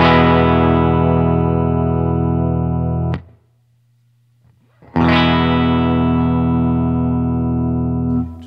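Two sustained electric guitar chords ring out through a modified Boss GE-7 EQ pedal, clean and full with a tight low end, separated by a short pause with faint handling noise.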